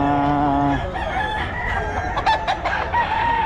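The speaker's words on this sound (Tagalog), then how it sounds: "Mga manok ni boss." Close, loud crowing from a seller's roosters in Bocaue opens with one long harmonic cock-a-doodle-doo, then other birds cluck and call sharply over a dense farmyard din.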